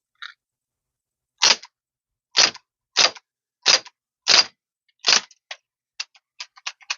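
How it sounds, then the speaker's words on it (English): A Crosman ST1 air rifle fires a string of sharp, close shots, several spaced about a second apart and then quicker, lighter clicks toward the end, with no talking. "I'm going to shoot with this, see what it does."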